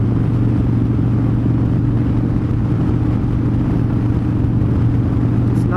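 A Harley-Davidson Street Bob motorcycle cruising on a highway at night, its steady low engine drone and road rumble loud and continuous with no talk.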